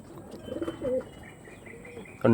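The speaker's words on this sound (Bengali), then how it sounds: "আরেকটা অরিজিনাল পায়রা দেখাচ্ছি" Pigeons coo softly nearby, a few low burbling calls spread across a quiet stretch with faint chirps, ending in a sudden louder rustle or flutter.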